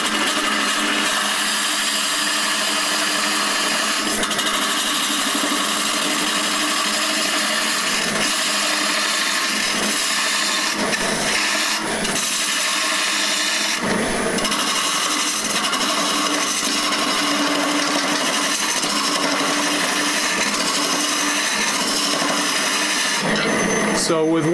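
Wood lathe turning a lamp base as a gouge cuts end grain from center to outside, a loud continuous whirring hum with scraping cut texture and occasional breaks.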